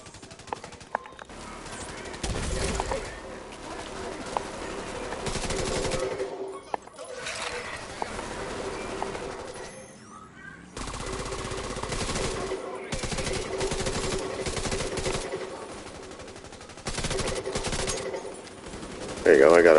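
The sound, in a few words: gunfire in The Division 2 video game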